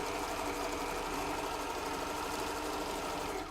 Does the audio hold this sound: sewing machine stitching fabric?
yes